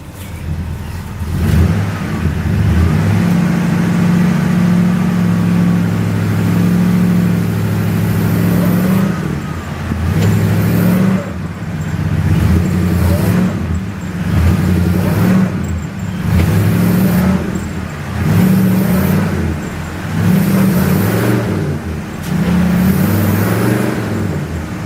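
Porsche 911 engine revving hard in repeated bursts as the car tries to pull free from being stuck after digging around it, loud and close throughout, with pitch rising and falling between attempts and no talking.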